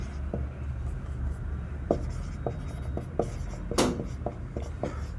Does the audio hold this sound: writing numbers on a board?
yes